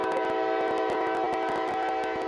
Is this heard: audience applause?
no